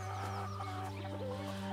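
Hens cluck softly nearby, with a few short calls over a steady low hum, faint and with no talking.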